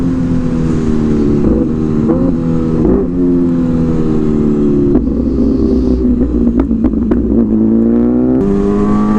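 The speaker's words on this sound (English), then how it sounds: "This is a crazy fast bike." A hyper naked motorcycle accelerates hard, its loud engine rising and falling in pitch through several gear changes, with steady wind rush throughout and no voices.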